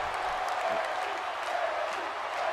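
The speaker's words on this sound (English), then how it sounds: "The crowd are loving it." A virtual arena crowd in the WWE 2K18 wrestling game roars and cheers continuously, a dense, steady wash of noise with faint voices mixed in.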